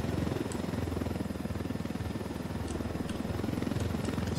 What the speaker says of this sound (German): jetzt haben wir natürlich einen ziemlich großen Heli hier dabei